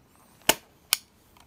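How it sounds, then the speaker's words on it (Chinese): A Minolta SRT101 film SLR fires its shutter twice in close succession, two crisp mechanical clacks about half a second apart, followed by a fainter third click, with no talk. "快门正常可动作"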